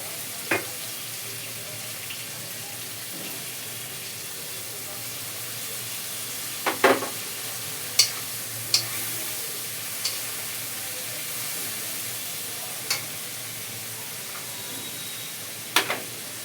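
Shahi hilsa fish curry with green chilies cooking in a pan, giving a steady frying hiss throughout, broken by a handful of sharp clicks and taps from stirring.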